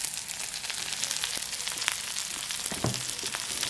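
Onions and fennel seeds sautéing in a pan over high heat, giving a steady, close, low-level sizzle with a few faint clinks from stirring.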